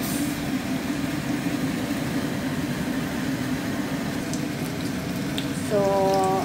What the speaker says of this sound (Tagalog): Piniprito na natin yung ating spring rolls.